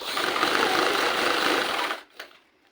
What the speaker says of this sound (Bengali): যতটা পারা যায় কম কাপড় উঠিয়ে আমি নিচে সেলাইটি দিয়ে দিচ্ছি